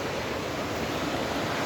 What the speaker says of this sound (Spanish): Ruido del agua, el río Turia.